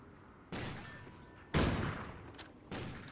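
Three separate gunshots fired through a wall in Call of Duty Ghosts, each a sharp close blast with a short ringing tail, spaced about a second apart with no talking.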